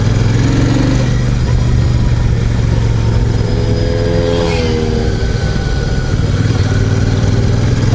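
Royal Enfield Super Meteor 650 in Celestial Red being ridden, its parallel-twin engine rumbling loudly and steadily close up, with a rising rev surge midway before settling back to a cruising drone.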